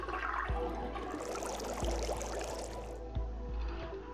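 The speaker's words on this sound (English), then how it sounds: "the sink on the left is making the noise" A sink making water noise in Zero Time Dilemma, a steady gurgling, draining rush with a few low thuds, close and continuous with no talk.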